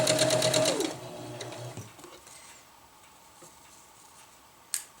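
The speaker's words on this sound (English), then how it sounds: "While you're sewing, just keep in mind that you don't want to go too fast." A sewing machine stitching hammock bug net fabric runs in a fast mechanical chatter for about a second, then slows and stops, followed by quiet handling noises and a sharp click near the end.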